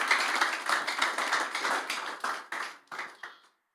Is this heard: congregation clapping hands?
yes